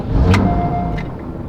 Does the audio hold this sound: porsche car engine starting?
yes